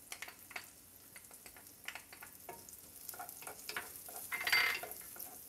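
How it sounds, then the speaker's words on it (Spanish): Chopped garlic cloves frying in butter with rice and carrots and peas, a soft steady sizzle broken by repeated scraping stirs of a utensil against the pan, close and fairly quiet. "Le voy a agregar los 2 dientes de ajo picaditos."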